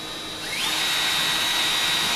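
A power drill whines up in pitch and holds a steady high drone as it drives self-tapping screws into the wall of a Sprinter van, close and loud.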